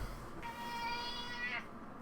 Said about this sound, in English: Oh my goodness, there's a cat.